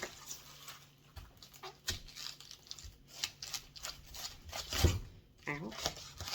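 Kitchen knife cutting around the core of a cabbage for sauerkraut, faint close crunching and scraping in short irregular bursts, under a person talking.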